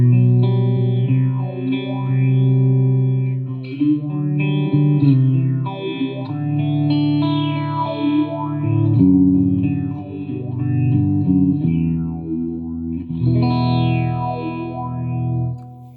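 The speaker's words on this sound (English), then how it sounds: "Phaser swirl." Electric guitar played through a Fender Mustang LT50 1x12 50-watt amplifier on its phaser swirl preset: loud, distorted chords with a sweeping, swirling phase modulation, continuous for about sixteen seconds, with no talking.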